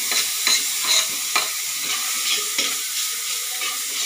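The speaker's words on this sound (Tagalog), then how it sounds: "doon natin gigisayin yung bawang para kapit na kapit." Garlic and ginger sauté in a pan that still holds the drippings from frying fish. A soft, steady sizzle runs under repeated scraping and stirring strokes of a utensil. No one speaks.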